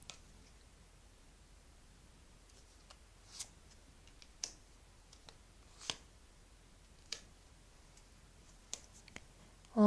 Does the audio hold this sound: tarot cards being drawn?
yes